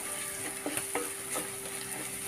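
Kerala-style prawn roast masala sizzles and fries in a clay pot while a spoon stirs it, with soft scraping strokes over a steady, close frying hiss.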